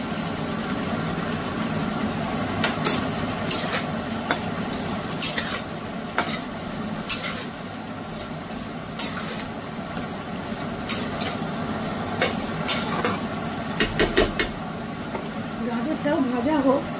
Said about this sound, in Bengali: গাজরটাও ভাজা হোক